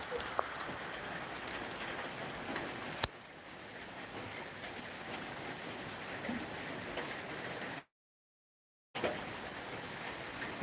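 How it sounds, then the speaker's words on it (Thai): Steady rain falling outdoors at a hillside Buddhist temple garden, a continuous dense hiss of drops pattering on surfaces, moderately close, with a brief dropout partway through and no talking. "ฝนก็ตกอีก"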